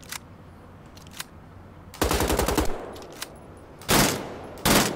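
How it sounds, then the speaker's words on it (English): A burst-fire weapon in Wolfenstein: The Old Blood fires several loud, rapid bursts of gunshots separated by short pauses, with fainter game clicks between them. "Ah, okay, burst fire, cool."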